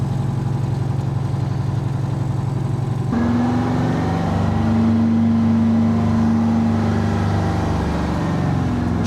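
A 1972 Peterbilt truck engine drives along, a steady low rumble that shifts to a higher droning tone partway through as it pulls, heard from inside the cab without talk.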